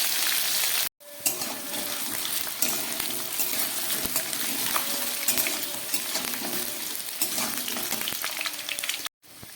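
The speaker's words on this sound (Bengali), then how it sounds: "এবার এই আলুটাকে আমি একটু ভালো করে ভেজে নেব" Potato pieces fry in a pan, a steady, close sizzle and crackle with stirring scrapes, broken by brief silent cuts near the start and end, no voices.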